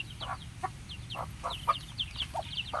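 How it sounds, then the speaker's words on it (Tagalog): Several native chickens cluck in short, scattered bursts nearby at a pig farm over a low background hum, one call briefly louder than the rest. "yung manok na native"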